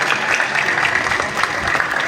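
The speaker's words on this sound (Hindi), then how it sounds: "जोरदार तालियां" Applause from a gathering at a political event in Safidon, a dense steady patter of many hands clapping, moderately loud and continuous.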